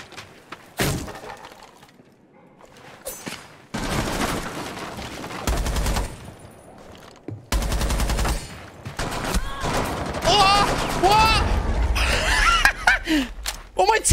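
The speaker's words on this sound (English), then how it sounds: "There's a fucking shotgun." Shotgun blasts and other gunfire in Rainbow Six Siege, loud close bursts with breaking glass and debris, coming in irregular clusters with silent gaps, while players talk excitedly over the action.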